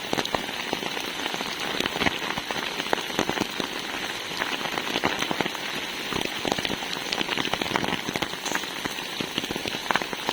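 Heavy rain pours steadily in Chennai, a dense, continuous hiss of drops striking surfaces with frequent sharp spatters, loud and close throughout with no voices.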